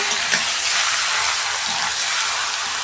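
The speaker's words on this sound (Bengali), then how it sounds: "বন্ধুরা, চিকেনটা দিয়ে আমি 5 মিনিট কষতে নেব" Chicken sautéing in a pan for a Bihari-style curry, a continuous bright sizzle and hiss with faint stirring, steady and close, no talking.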